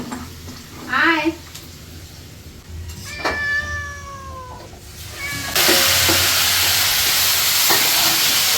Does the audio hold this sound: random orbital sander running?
no